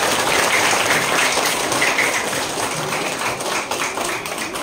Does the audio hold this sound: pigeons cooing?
no